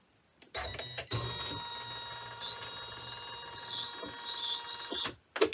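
An embroidery machine runs a tack down stitch, a steady mechanical whir with a whining high tone and rapid needle rhythm that starts, hums for about four seconds and stops, followed by a brief clunk.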